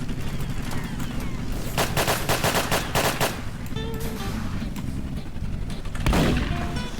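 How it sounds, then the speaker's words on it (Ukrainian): Rapid bursts of tank gunfire in a Roblox armored patrol battle, dense volleys of shots cracking loudly for several seconds, followed by a heavier boom near the end. "На, все, просто по всьому стріляємо."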